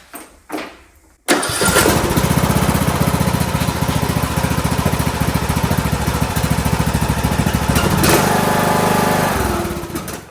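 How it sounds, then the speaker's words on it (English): A small John Deere D105 garden tractor engine sputters through a few start attempts, then catches and runs steadily with a loud, rapid chugging for several seconds before easing down. "Start up the tractor here."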